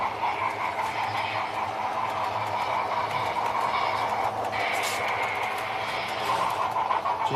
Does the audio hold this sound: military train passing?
yes